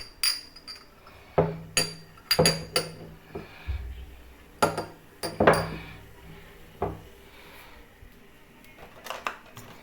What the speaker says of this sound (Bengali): এই যে কাপ নিলাম দুইটা